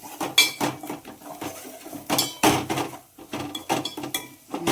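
Red chilli masala being mixed in a pot for veg biryani, a series of irregular metallic scrapes and knocks of a spoon against the pot, close and moderately loud, with short pauses between strokes.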